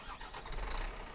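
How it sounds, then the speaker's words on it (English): A Scania DC11 engine fitted in an International 9800 truck starts up in American Truck Simulator, heard as a short, quiet low rumble of cranking and catching. "So we'll go ahead and start the engine."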